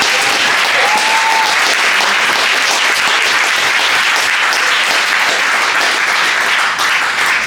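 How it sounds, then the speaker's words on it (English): Loud, sustained applause from a large crowd, steady and dense throughout with no pauses. "So can we have a thunderous round of applause for Gary?"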